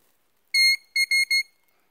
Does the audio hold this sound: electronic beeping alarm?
yes